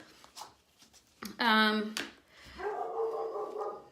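A dog gives a single loud bark close by during an indoor talk, followed by someone speaking.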